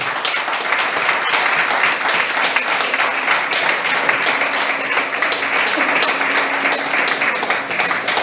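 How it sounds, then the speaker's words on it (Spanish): A church congregation claps together in a loud, sustained burst of applause that stays dense and even for several seconds, filling the room. "Aplaudan."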